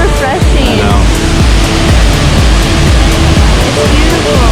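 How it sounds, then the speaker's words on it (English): Water flows loudly and continuously close by on an outing near Jiufen, Taiwan, a dense rushing wash like a stream or falls, with voices partly audible beneath it. "The water is so refreshing."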